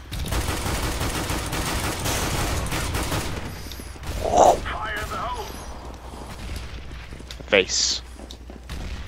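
CS GO deathmatch gunfire crackles in rapid bursts of shots with occasional thuds, and players talk over the action.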